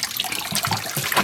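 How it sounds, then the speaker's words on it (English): Cool tap water runs steadily over freshly dyed, cooled yarn being rinsed by hand in a sink, a continuous close splashing wash with no talking. "I am washing our cooled off yarn in just some cool water"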